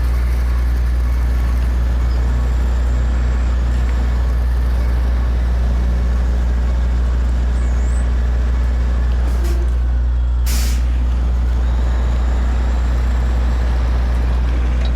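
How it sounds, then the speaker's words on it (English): Heavy truck driving along a rough trail in modded SnowRunner, a steady loud low engine drone throughout with a brief hiss-like burst near the end. "The first truck made it straight through there with"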